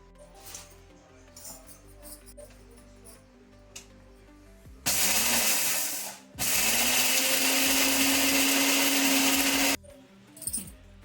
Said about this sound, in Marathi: आता मी हे झालं मिक्सरवर काढून घेते